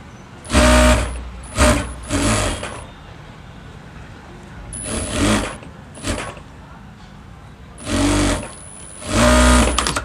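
A sewing machine stitches a Rajput kanchali blouse in loud, close bursts, running in several separate spells with quiet pauses between them.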